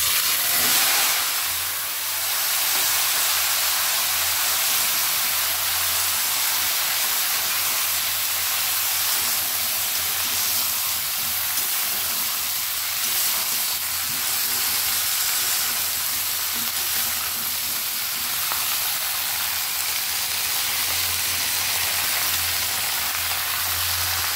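Cut vegetables frying in hot oil with dried red chillies, bay leaves and Bengali five-spice for shukto, a loud, steady, hissing sizzle that carries on unbroken with no talk.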